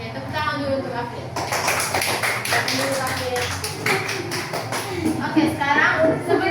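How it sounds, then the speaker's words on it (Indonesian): Children in a classroom clap together in a brisk, uneven burst that follows a teacher's prompt, with children's voices and chatter mixed in around the clapping. "tepuk tangan dulu untuk April."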